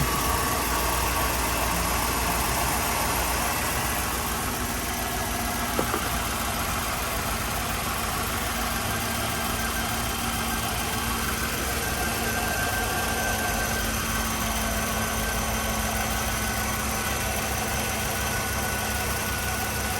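Chevrolet Suburban engine idling steadily while warming up, a continuous low rumble with faint vibration throughout and no speech.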